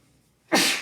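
A single sharp sneeze bursts out near the end, close and loud, after a brief quiet moment.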